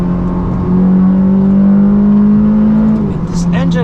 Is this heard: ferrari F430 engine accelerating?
yes